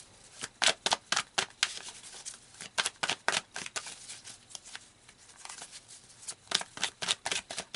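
Tarot cards are shuffled by hand in quick bursts of crisp riffling flutters, several rapid runs separated by short pauses, close up and fairly quiet.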